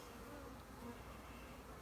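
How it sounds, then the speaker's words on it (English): Honey bees buzz over drying honeycomb in a hive, a steady, close swarm drone holding evenly throughout with no voices. "all the bees are drying out the honeycomb"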